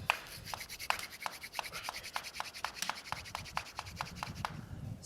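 A slightly green wooden spindle is spun by hand against a board for a friction fire, giving a quiet, rapid series of regular rubbing strokes, close and fairly faint.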